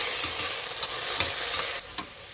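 Vegetables and tomatoes sizzle steadily in a hot pan, with a few soft scrapes and stirring knocks near the start and end.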